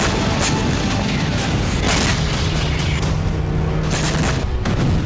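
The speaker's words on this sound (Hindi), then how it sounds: "जोरदार धमाका हुआ और टैंक स्वाहा हो गया।" A loud, sustained roar of explosions and blasts fills the whole stretch, with heavy booming impacts recurring over a constant rumbling wash.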